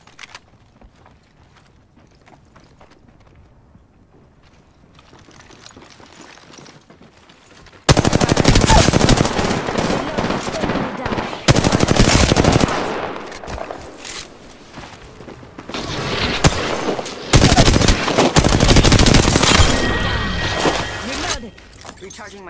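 Bursts of machine gun fire from an Apex Legends match, loud and sustained in several long volleys after a quiet opening, with a voice speaking between the shots.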